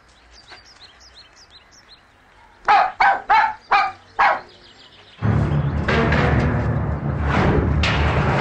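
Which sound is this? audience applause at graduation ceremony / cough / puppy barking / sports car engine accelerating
puppy barking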